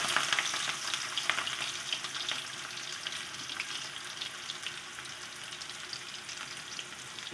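Chopped onions with cumin seeds fry for egg bhurji in a pan, giving a steady close hiss and crackle with dense bright sputtering throughout, gently stirred and with no talking.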